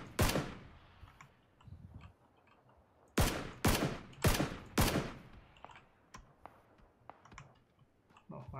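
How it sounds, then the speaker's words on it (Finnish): Gunfire in the battle royale game PUBG: sharp broadband shots, one early then a rapid cluster of four around the middle, followed by fainter scattered clicks and distant pops. "Meitä ammuttaa jostain tuolta."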